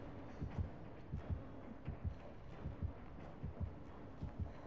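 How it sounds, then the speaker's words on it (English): Default heartbeat warning from the video game Dead by Daylight as a trapper killer approaches: low, paired thumping pulses repeating steadily at a moderate pace under a faint hum, with no talk. "Oh, I hear it's the default heartbeat."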